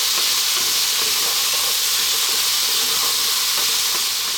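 Chopped onion fries with potatoes for Indian aloo keema, a loud, continuous hissing sizzle close to the pan with faint stirring and no speech.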